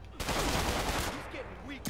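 Gunfire in a Spider-Man video game, a dense, continuous burst of shots filling the clip at close range, with no clear gaps between rounds.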